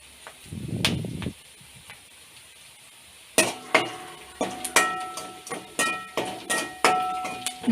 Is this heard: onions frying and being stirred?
yes